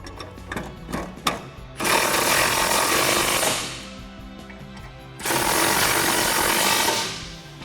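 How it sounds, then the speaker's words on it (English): A ratchet with a 13 mm socket tightens headlight bolts on a 2011-2016 Ford Super Duty. A few quick clicks come first, then two sustained bursts of close, rapid ratcheting separated by a short pause. "using a 13 millimeter socket to snug them up"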